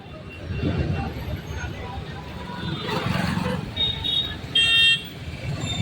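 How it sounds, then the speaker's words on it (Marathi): Road traffic on a night drive, with a steady rumble of passing vehicles and a brief car horn toot near the end. Murmuring voices sit in the background throughout. "आता लागले ट्रॅफिक."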